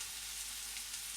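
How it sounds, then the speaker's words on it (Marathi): Turmeric sizzles in hot oil as a tempering for kadhi, giving a steady, close, bright crackling hiss with faint pops throughout, with no voices. "परतून घ्यायची आहे हळद."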